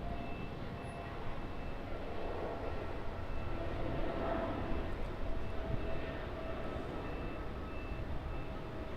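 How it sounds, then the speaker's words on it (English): FedEx Boeing 777 freighter taking off from runway 16 at Sydney Airport, a steady broad jet roar at moderate distance that holds for the whole stretch, with faint beeping tones over it. "a FedEx Boeing 777 freighter taking off from 16 right here at Sydney"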